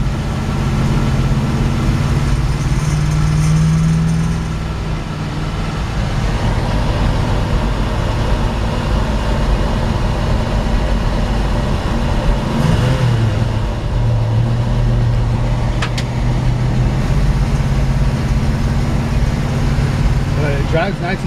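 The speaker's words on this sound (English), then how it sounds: "we're putting miles on a freshly built engine here." A 1964 Ford Galaxie 500XL with a freshly built 390 V8 drives down the road, its engine a steady low rumble with road noise beneath, shifting pitch partway through as it accelerates.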